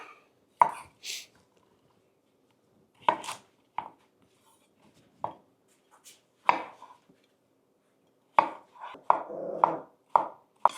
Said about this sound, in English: I like to have the cucumber bite, so I just chop it